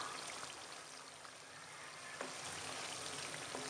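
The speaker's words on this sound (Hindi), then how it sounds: "प्याज को पकते हुए तकरीबन 2 से 3 मिनट हो चुके हैं।" Onions frying in a pan for aloo matar make a soft, steady sizzle, faint and even throughout, with a few tiny pops and no talking.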